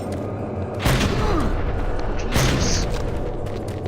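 Deep booming rocket explosions in the VR shooter Doom 3 Lost Mission, two heavy blasts about a second and a half apart with rumbling tails, and a man briefly exclaiming.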